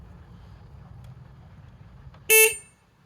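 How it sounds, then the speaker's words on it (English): Car horn pressed once, a single short loud blare after quiet wind-blown background, close to the microphone. "I'm gonna hold it down here and press the horn again"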